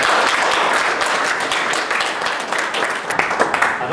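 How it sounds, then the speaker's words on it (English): A group applauds for Ted after a sponsored Hadrian's Wall challenge, with loud, dense clapping that runs steadily for four seconds and a few sharper individual claps toward the end. "Round of applause for Ted, I think."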